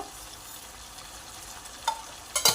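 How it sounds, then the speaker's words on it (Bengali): Chicken kosha in a thick spicy masala seasoned with salt and sugar cooks in a pan, a low steady sizzle broken near the end by a couple of sharp scraping stirs. "এটাকে আমি ভালো করে আর একটু নাড়িয়ে কষিয়ে নেব"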